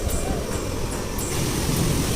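Rain-fed river water pours over a weir at Somidi, making a steady, close, broadband rush that holds at an even loudness throughout, with no voices.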